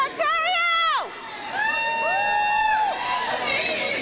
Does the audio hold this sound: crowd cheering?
yes